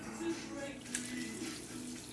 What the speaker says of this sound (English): Let's put 9 cups of water.